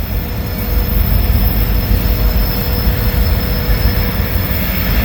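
Locomotive Y101 pulls away to start work, its wheels squealing steadily over a continuous low rail rumble, close and loud, with no one talking.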